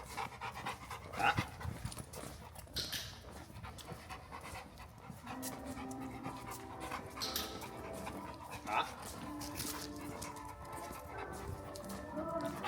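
A tired Cane Corso dog pants quietly in quick, rhythmic breaths during an outdoor training walk. Low background noise and a few faint voices sit in the mix.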